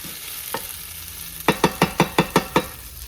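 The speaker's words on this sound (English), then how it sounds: "the onions are sizzling, cooking up" Onions sizzle steadily in a frying pan while a utensil knocks against it, first once, then in a quick run of seven or so even taps.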